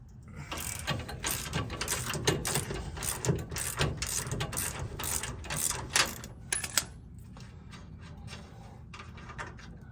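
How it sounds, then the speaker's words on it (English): A ratchet loosening the bottom bolts of a rear shock on a 2024 Ford F250 during a Fox 2.0 shock install, loud rapid clicking in close bursts that slows and thins out toward the end. "first thing I'm gonna do is loosen up these bottom bolts."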